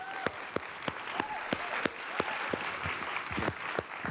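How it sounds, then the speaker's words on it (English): Audience applause for teaching assistants at an evening innovation challenge event, a steady wash of clapping with sharp individual claps standing out, heard from a distance at low level. "Give them a big round of applause"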